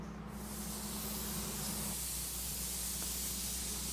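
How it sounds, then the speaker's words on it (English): A high-pressure spray gun hisses steadily as candy paint is sprayed onto a car fender, a continuous broad airy rush with a faint low hum beneath, close and unbroken. "I like to spray with a high pressure"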